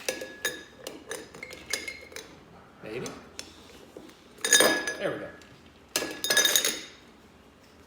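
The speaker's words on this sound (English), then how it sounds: "and a little ice in the glass" Ice cubes drop and clink into a drinking glass while a gin and tonic is being made. The sharp glassy chinks come in scattered clusters, with the loudest rattles near the end, and a voice speaks briefly between them.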